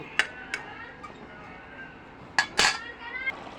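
Tomatoes are stirred into a tengra fish curry in a pan, with metal spoon clinks and scrapes against the pot in short bursts and quiet gaps between them.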